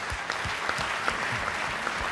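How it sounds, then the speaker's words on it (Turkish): An audience claps steadily for Utku and Tamer on the Popstar stage, a dense, even wash of applause with a few sharper individual claps standing out. "Utku'yu, Tamer'i, kocaman alkışlıyor muyuz?"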